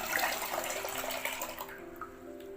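Tomato cooking water being poured into a pot for rasam, a soft splashing pour that tapers off after about two seconds, faint and close, with no talk.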